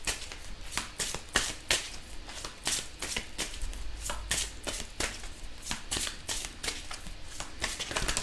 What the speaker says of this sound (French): on va prendre les petites cartes de l'oracle de Gaïa